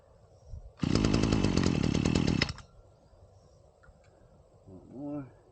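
A PROYAMA 26cc 6-in-1 gas multi-tool engine fires up and runs with a loud, buzzing two-stroke roar for nearly two seconds, then cuts out, followed by quiet and a short voice.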